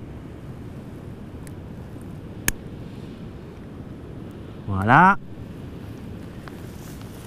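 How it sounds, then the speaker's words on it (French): Wind blowing outdoors across a microphone, a low, steady rumble with a sharp tap midway and a brief spoken word near the end. "il y a beaucoup de vent"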